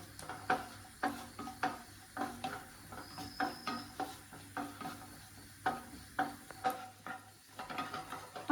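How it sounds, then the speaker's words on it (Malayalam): Cashew nuts frying in a hot pan while mango vermicelli payasam is being made: a steady run of spatula scrapes and light metallic clinks over a faint sizzle, close by and moderately quiet, with no talking. "പാൻ ചൂടാകുമ്പോഴേ കുറച്ച് അണ്ടിപ്പരിപ്പ് ഇട്ട് കൊടുക്കാം"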